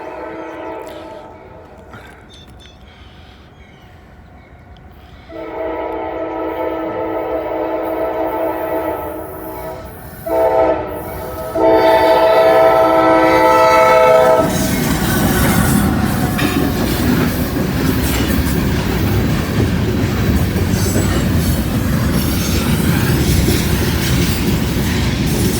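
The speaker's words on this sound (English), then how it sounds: "Yep, could be a grain train. Nope, manifest." A manifest freight train's horn sounds in several loud blasts, then the train rolls past nearby with a steady heavy roar and rumble of wagons.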